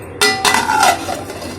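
A metal lid clanks onto a cooking pot of jackfruit curry, a couple of sharp clinks followed by a brief ringing rattle as it settles, close and clear.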